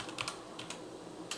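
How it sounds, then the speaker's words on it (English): Typing a git submodule command on a computer keyboard while compiling HackRF firmware under Linux Mint: a few quick, light key clicks in two short bursts, close and fairly quiet. "So I'm going to type in a git submodule,"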